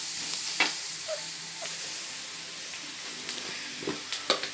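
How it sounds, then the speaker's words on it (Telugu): Ginger sizzles and fries in a pan for pickle, a steady hiss of hot oil broken by occasional scraping clicks of stirring. "సో మంచిగా మిక్స్ చేసుకోండి చూసారు కదండి జింజర్ మంచిగా ఫ్రై అయిపోయింది"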